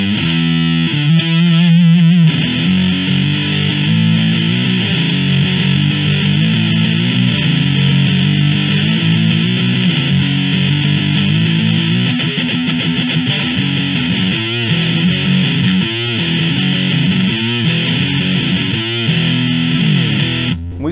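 An electric guitar runs through the Big Fuzz pedal emulation in IK Multimedia AmpliTube X-Drive, giving a loud, thick, heavily saturated fuzz tone. Chords are held and strummed continuously, with no voices.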